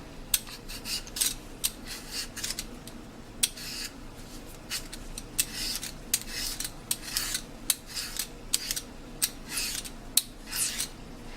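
Peeling potatoes for homemade French fries: a steady run of quick, sharp scraping strokes with clicks of the peeler, close and fairly quiet, with no talk.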